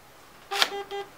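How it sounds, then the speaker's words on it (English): Three short electronic beeps in quick succession from a programmable airsoft gun's MOSFET electronics after the trigger is held, the first with a sharp click at its start, close and fairly quiet. "Hold the trigger, and after 5 seconds, I'm going to get 3 beeps."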